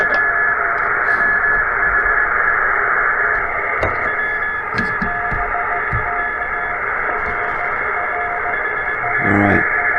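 Ham radio stations on the 20 meter band through a TR45L transceiver, a steady hiss and hum of the receiver with faint warbling signals and occasional clicks and pops running throughout.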